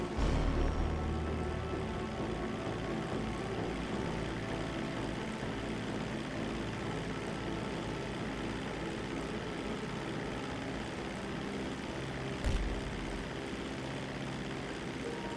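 Propeller airplane flying in GTA 5 Online, a steady droning engine hum running throughout at moderate level with a brief louder bump near the end, no talking.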